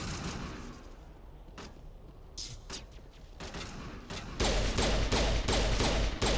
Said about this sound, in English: Something else is shooting us in it.